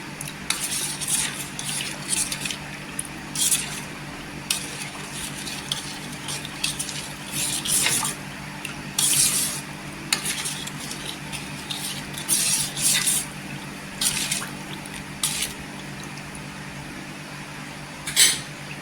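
A spoon stirs a cold homemade sherbet drink with rose syrup, giving repeated light clinks and swishes against the glass in irregular bursts, close and fairly clear over a low steady hum, with no talking.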